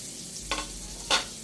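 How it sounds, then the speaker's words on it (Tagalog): Garlic and onion sautéing in a pan give a soft steady sizzle, with two short louder scrapes of stirring a little over half a second apart. "so igisa na po natin yung bawang at saka sibuyas"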